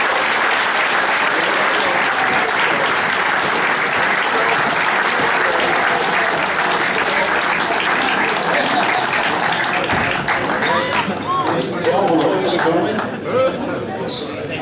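An audience at a football club's 75th anniversary gala night applauds, a loud, sustained wash of clapping filling the hall, with voices and chatter rising through it toward the end.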